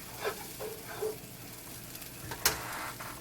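Mung bean sprouts and spring onion sizzle quietly in a pan for curry yakisoba, a low frying hiss broken by a few soft scraping stirs and one sharper clack.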